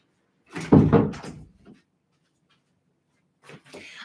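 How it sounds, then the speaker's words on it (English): An office door swings shut with a solid thud and a brief rattle, up close. Silence follows, then quieter shuffling sounds. "Hold on, I'm going to shut my door."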